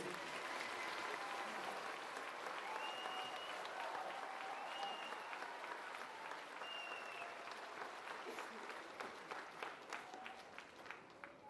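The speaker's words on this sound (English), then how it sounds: "Would you all give him a round of applause, please?" Applause from a university commencement crowd at Haskell Indian Nations University, a faint, distant wash of many hands clapping with scattered whistles, steady throughout and thinning into more distinct claps near the end.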